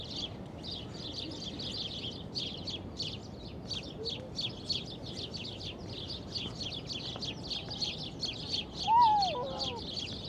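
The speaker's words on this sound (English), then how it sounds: "You hear all those birds?" Birds chirp constantly in Central Park on a late-February day in New York City, rapid high twittering calls blending into a busy chorus, moderately distant over faint outdoor background noise, with one clearer call near the end.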